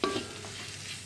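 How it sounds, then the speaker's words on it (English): A masala of chili powder, coriander powder and garam masala fries in a pan for a crab curry, giving a brief close stir followed by a soft, steady sizzle. "I'm going to let the masala cook for a little while"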